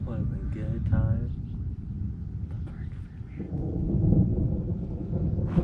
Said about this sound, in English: It's still thundering in the background.